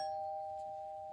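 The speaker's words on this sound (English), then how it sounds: "That was my doorbell" A single doorbell chime rings out, one clear sustained tone that slowly fades, moderately near and alone, with no voices over it.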